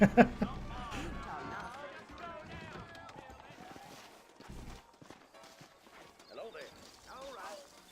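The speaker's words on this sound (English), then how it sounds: "Oh yeah, horse riding." Horse hooves clip-clop in the Red Dead Redemption video game, soft rhythmic steps beneath a voice talking over the game audio.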